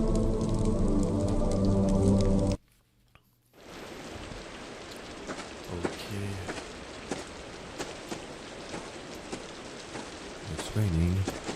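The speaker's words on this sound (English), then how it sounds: "Raining." Steady rain in the video game Back To Hearth, a dense hissing patter that fills the scene after a brief burst of music stops and a moment of near silence, with scattered louder drops.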